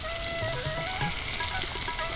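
Potato pieces frying lightly in oil in a pan give a close, steady sizzle with soft crackles, continuous and alone without talk.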